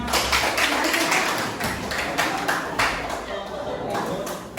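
Audience clapping for a winning group at a teacher-certification performance exam in Jakarta, with a fairly close, moderately loud burst of mixed hand claps that stays continuous and uneven throughout.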